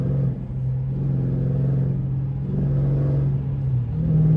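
A Dodge Scat Pack fitted with catless midpipes rumbles with a deep, loud exhaust tone, revving and pulling in a steady, strong drone with swells in pitch as the throttle rises, heard close with no talking.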